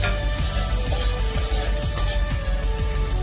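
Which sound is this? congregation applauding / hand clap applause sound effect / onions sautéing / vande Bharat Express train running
onions sautéing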